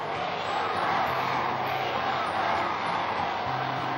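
A large crowd packed outside a town hall shouts and clamours for goalkeeper Bert Trautmann, a loud, steady wall of voices with no single speaker standing out.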